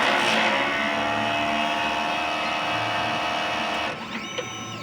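A DTF printer runs a print head cleaning cycle, giving a steady whirring mechanical drone that holds for about four seconds, then drops to quieter pump and motor sounds.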